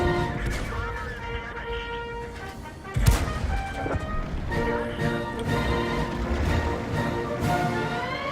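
Tank cannon fire in a tank video game, with a sharp heavy boom about three seconds in standing out over the continuous engine rumble and game soundscape.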